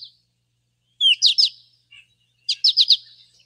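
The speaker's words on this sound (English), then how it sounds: "And here's their potato chip call." American goldfinch flight calls, two quick bursts of three or four bright chirps each with a short pause between, clear and close with no other sound.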